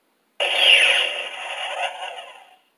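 The concussion missile launcher effect plays from a Star Wars Kessel Run Millennium Falcon toy. It is a single loud, close electronic whoosh lasting about two seconds that falls in pitch and fades out, with no voices over it.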